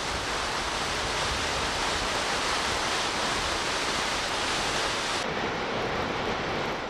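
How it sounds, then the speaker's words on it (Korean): A huge waterfall with a 127 m vertical drop roars in a constant, dense rush of crashing water, loud and close, with no pauses or voices over the steady torrent. "폭포 앞에 서면 폭포가 만들어내는 물보라뿐만 아니라 우렁찬 낙하음만으로도 가슴까지 시원해진다."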